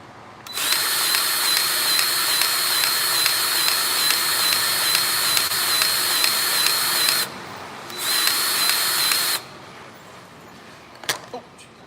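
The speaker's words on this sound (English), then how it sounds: "I think this grease gun has a lot of pressure, and it just kind of pushes through compared to the hand pump" A powered grease gun runs on a truck with a loud steady whirring drone for about seven seconds, stops, then runs again for a short burst before a few clicks, close with no speech over it.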